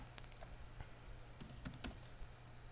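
A short burst of keystrokes on a computer keyboard as a terminal command is typed in Ubuntu, scattered sharp clicks close by, a little faster toward the end.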